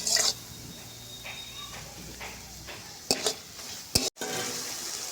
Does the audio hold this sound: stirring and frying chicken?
yes